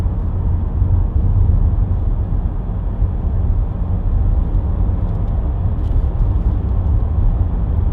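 A 2014 Vauxhall Astra 2.0 CDTi ecoFLEX SRi diesel hatchback cruises along a dual carriageway, heard from inside the cabin as a steady, loud low rumble of road and engine noise that holds level throughout with no talk.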